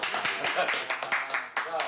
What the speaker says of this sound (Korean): 진짜 박수 한번 칠까요?